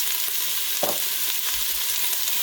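Fresh zucchini goes into a minestrone pot with other vegetables, giving a steady close sizzle and frying hiss with a brief soft thump as the pieces drop in and a little stirring.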